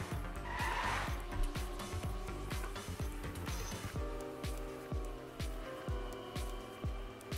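A race car in a racing video game skids and strikes a wall, with a constant engine drone, a rhythmic series of thumping pulses and a brief tire squeal under the steady game noise.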